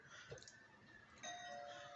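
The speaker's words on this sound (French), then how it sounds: "La sonnette fonctionne très bien." An apartment doorbell in a Montréal rental sounds inside, a clear electronic chime ringing near and fairly faint against a quiet room, with the tone holding steady toward the end.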